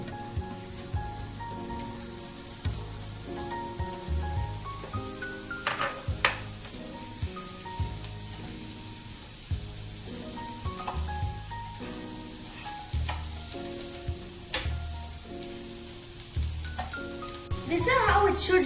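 Mushrooms fry in a pan for a cheese vegetable omelette, a steady sizzle with occasional stirring clatter and scraping, growing louder near the end, with a voice speaking over it.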